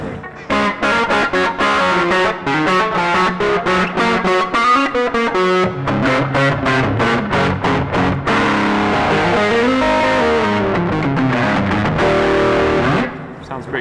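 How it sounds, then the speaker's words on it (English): Electric guitar played with a crunchy overdriven tone, strummed chords and picked notes ringing continuously at a steady, loud level. "So we can obviously put a bit of crunch on it."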